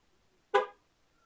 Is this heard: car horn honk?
yes